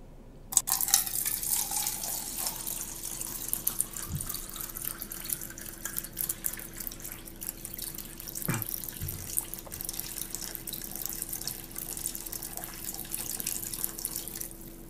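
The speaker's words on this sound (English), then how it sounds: "Or they say pouring coffee here, and you'll see it's not coffee," Liquid pours in a steady, quiet trickle with a faint hum underneath and a few small splashes and clinks.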